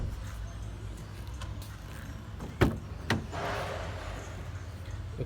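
Two sharp mechanical thumps and clicks from the driver's door of a 2017 Vauxhall Corsa opening, separated by a short pause, against quiet background hiss.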